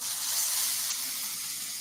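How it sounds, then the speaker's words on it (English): Grapeseed oil sizzles in a very hot, smoking pan, a steady bright hiss that holds constant throughout, close and alone with no voices. "Nice sizzle."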